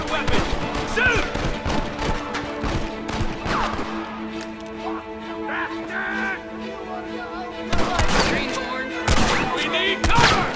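Shootout in the Western video game Red Dead Redemption, with sharp gunshots cracking irregularly through the scene, clustered bursts early and again near the end, mixed with shouting voices and background game sound.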